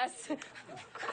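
Pet dog panting at home in California: quick, breathy huffs close by, partly masked by people talking over them.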